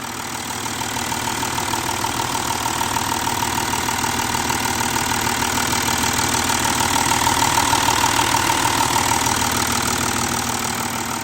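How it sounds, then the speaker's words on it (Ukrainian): A motor idles steadily and loudly up close, its even, continuous rumble holding at a constant level throughout with no talking. "Слухайте, як годить мотор."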